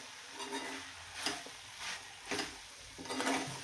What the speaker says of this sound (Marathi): मस्त छान परतून घ्यायचं एकदा पूर्ण.